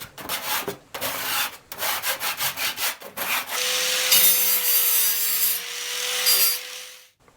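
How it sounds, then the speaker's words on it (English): Glue scraped off sheet metal in a small blacksmith shop build: a run of quick, rhythmic rasping strokes, then one long continuous scrape with a faint metallic ring, loud and close, with no voices. "I need to scrape this glue off, clean the metal up"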